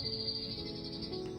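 Electronic bird chirps and tweets play steadily from decorative birdhouses at an estate sale, a thin high trill running continuously over a low indoor hum.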